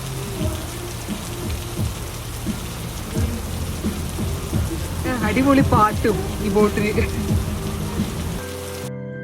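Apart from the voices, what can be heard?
rain falling on a houseboat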